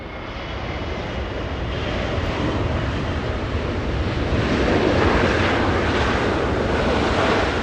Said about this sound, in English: Spoilers up, flaps down, that 777 slowing down.